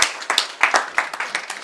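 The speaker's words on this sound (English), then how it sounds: "Let's clap for him also." A short burst of applause, with several hands clapping in a quick, uneven rhythm, fairly close.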